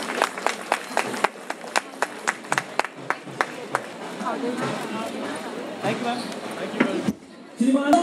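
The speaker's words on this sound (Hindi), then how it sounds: "आप लोगों की एक बार जोरदार तालियां हो जानी चाहिए इस इतने भव्य कार्यक्रम के लिए" Audience at a packed fashion show claps with sharp, distinct separate claps at first, then blends into a softer, denser patter with murmuring voices, ending in a brief dropout.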